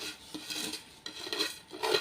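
Semiya payasam being stirred in a pan of boiling milk, giving scraping and clinking spoon-against-pan sounds in irregular bursts, close and moderately loud with no talking.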